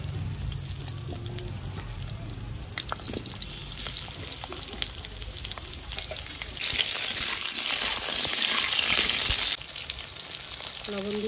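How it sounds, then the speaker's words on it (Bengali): Potatoes for a meat curry fry in hot oil with a steady, dense sizzle that runs the whole time and swells louder partway through, then eases back near the end; nobody speaks. "তেল দিয়ে দিচ্ছি, মাংসের আলুটা ভেজে নেব।"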